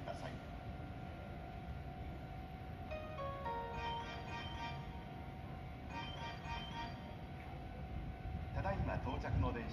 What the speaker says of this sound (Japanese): 京都河原町方面に向かう電車が到着します。